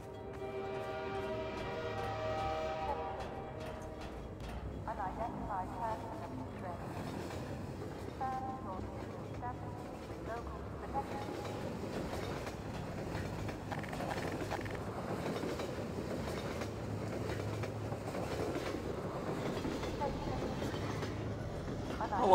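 A train passes in the game Half-Life 2 VR, with rumbling carriages and clattering wheels rolling past throughout, a tonal squeal or horn at the start, and a person talking over it.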